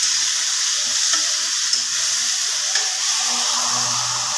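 Tomatoes go into a pan of Bengali fish curry simmering with cumin and ginger-garlic paste, and a steady loud sizzle of frying runs throughout, close up with faint stirring clinks and no talking.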